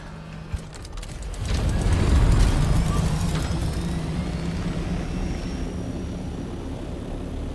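An aircraft flies in the video game Dune Awakening, its engine drone swelling quickly after a soft click, then holding as a steady, fairly close hum with a faint whine above it.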